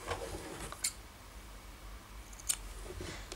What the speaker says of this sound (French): On arrête, on coupe ce fil.